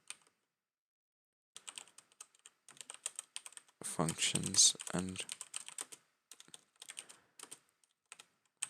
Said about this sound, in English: sorry, my typing's not exactly the best today